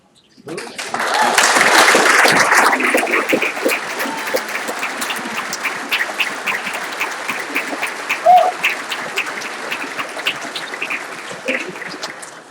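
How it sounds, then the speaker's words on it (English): Banquet audience applauding conference staff at a regional cadet competition event, clapping swelling quickly to a peak, then thinning to a lighter, scattered patter that lingers to the end. "will the conference staff please stand for a round of applause?"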